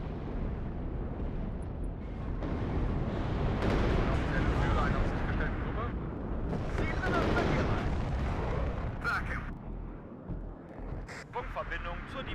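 Artillery fire and explosions in the war strategy game WARNO: continuous heavy rumbling blasts and booms that overlap without pause, with scattered sharper cracks and a voice speaking over part of the din.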